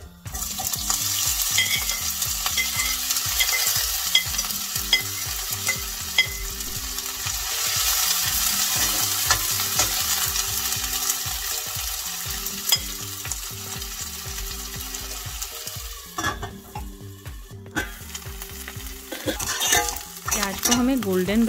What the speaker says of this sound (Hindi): जीरा जब अच्छे से ब्राउन हो जाएगा, तब हम लोग इसमें कटे हुए प्याज डाल देंगे।